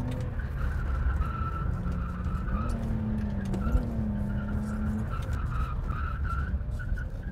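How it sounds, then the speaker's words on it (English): A car engine drones steadily with tires skidding and squealing as the car slides through a turn in a handbrake-style drift entry, fairly close, with no voices. "just use all the weight of the car to flick it in"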